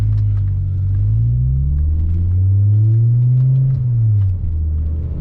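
An Audi UrS6 rumbles along at low speed as it slows and turns around on the road, its engine note rising and falling in a deep, loud drone heard from inside the car.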